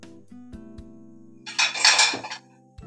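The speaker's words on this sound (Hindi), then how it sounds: "तो जीरा जो है हमारा आवाज आने लग गई है," Cumin seeds crackle and spit in hot oil for about a second, a close, fizzy burst of pops over a low steady hum.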